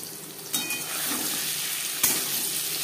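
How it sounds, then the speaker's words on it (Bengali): Paneer frying in a pan with turmeric and salt, a soft, steady sizzle with a faint clink of a utensil near the middle and another sharp scrape toward the end. "পনির হালকা করে ভেজে নেব।"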